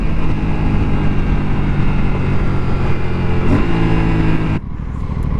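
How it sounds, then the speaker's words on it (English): An Aprilia RS457 engine runs loud and continuous, revving steadily, with a quick rev-matching blip on a clutchless downshift from the auto-blipper before the tone drops. "Let's use the auto blipper. You see this? I'm downshifting as well without using the clutch."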